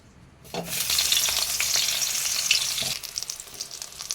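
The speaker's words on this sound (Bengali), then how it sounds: "কেটে রাখা বেগুনগুলো এবার দিয়ে দিচ্ছি তেলেতে" A sudden loud sizzle as eggplant pieces hit hot oil, then continuous crackling frying that settles into softer popping.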